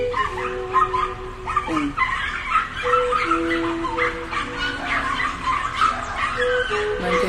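Dogs barking, yelping and whimpering in a noisy domestic setting, with a steady overlapping chorus of excited calls running throughout and a faint voice underneath.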